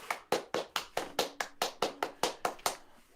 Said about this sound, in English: Me clapping